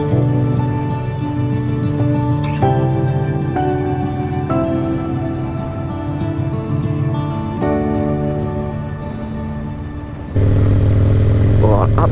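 Sportster motorcycle with freshly fitted tyres, ridden on a cold road: a steady mid-pitched engine drone with gear-change shifts in tone, loud and continuous throughout, with a sudden lift in engine level near the end.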